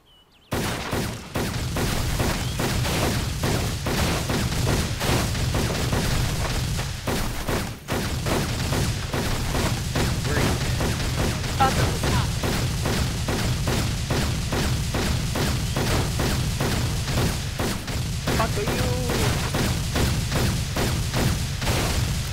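A convoy battle in a video game brings dense, nearly continuous automatic gunfire rattling through the whole stretch, broken by heavy booms and explosions, loud and close, with no talking.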